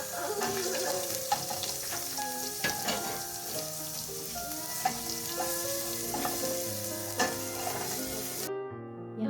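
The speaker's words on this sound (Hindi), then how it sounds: "तेल गर्म होने पर मैंने इसमें हाफ़ टी स्पून ज़ीरा, साथ ही 1 टीस्पून ग्रेट किया हुआ लहसुन और अदरक डाल करके थोड़ा सा इसे फ्राई कर लिया।" Cumin seeds with grated garlic and ginger fry in hot oil, giving a steady sizzle with scattered crackles and pops that continues throughout before cutting off abruptly near the end.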